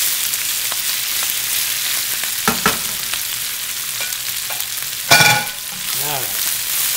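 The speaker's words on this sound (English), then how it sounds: "Swirl that brown garlic around. And here's the vegetables. Fresh spinach and basil." Browned garlic, fresh spinach and basil fry in a pan with a steady close sizzle, broken by a few stirring scrapes and a brief louder hiss as the greens are moved around.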